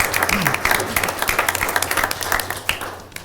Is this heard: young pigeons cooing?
no